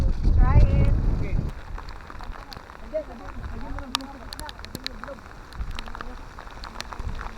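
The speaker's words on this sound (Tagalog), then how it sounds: "Grabe ang ulan." Heavy rain pours on the Mt. Jinmianshan mountain trail near Taipei, Taiwan, a steady, dense hiss of drops that stays loud throughout while hikers talk in raincoats.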